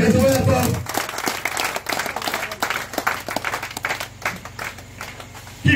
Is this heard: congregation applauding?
yes